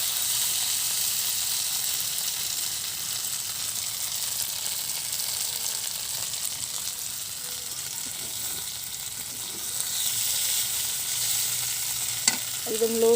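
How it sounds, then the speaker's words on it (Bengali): Vegetable curry sautéing in oil in a pan, a steady close sizzle with soft stirring scrapes throughout, and a few sharper clinks near the end. "একটু ভালোভাবে কষিয়ে নেব তেল দিয়ে।"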